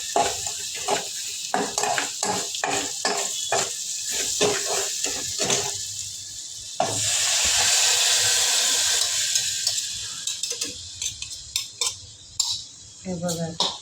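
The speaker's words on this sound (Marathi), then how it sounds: "आता सुशील त्याला तडका देत आहे" Hot tempering of oil and spices poured into pressure-cooked black-eyed pea dal, sizzling and hissing for several seconds amid clinks of a metal spoon and pot, with a voice speaking nearby.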